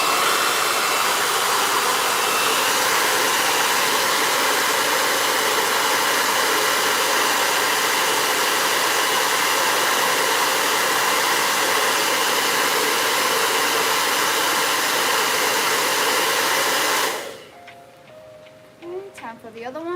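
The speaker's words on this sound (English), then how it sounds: "Gotta bust out the blow dryer." A hair dryer blows steadily on freshly painted press-on nails, a loud, close, continuous broadband roar lasting about seventeen seconds before switching off into quiet room noise.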